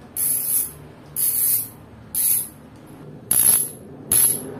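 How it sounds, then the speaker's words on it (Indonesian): Original, non-upgraded Fastace bicycle hub freewheeling with a dense ratchet clicking, in five short bursts of buzzing clicks separated by brief pauses, close and fairly loud. "Jadi ini belum di upgrade, suara aslinya seperti ini."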